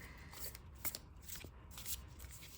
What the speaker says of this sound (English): Get a nice little shuffle going.